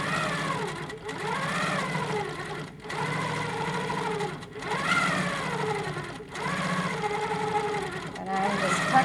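A quilting machine stitches a boat quilt with rulers, its motor whirring in repeated rising and falling sweeps separated by short pauses, close and moderately loud.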